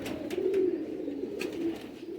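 Pigeons coo in a low, rolling burble that swells twice, close by, with a few soft clicks and no voices. The birds are pigeons of the Nayab Sialkoti breed kept as hobby birds.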